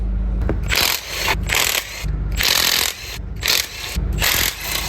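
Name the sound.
ratchet removing timing cover bolts on a Chevrolet Equinox 2.4L engine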